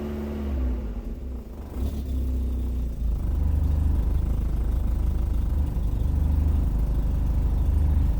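A Suzuki Gypsy engine with a patched-together exhaust runs with a deep, steady rumbling idle, close and loud, and a slight dip before it settles into an even drone.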